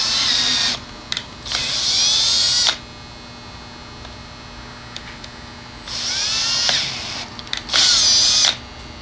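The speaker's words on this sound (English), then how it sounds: "Drill's not locking up on this thing." An electric drill whirs in four separate bursts, each lasting about one to two seconds, during assembly of a security camera. The drilling is close and loud, with quiet gaps between bursts and a low hum underneath.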